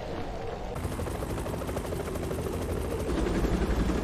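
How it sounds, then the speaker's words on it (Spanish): Rotor chop of a news helicopter in an anime, a steady loud thrum running the whole time, blended with dense rapid pulsing and a slight swell toward the end. "Un helicóptero de noticias."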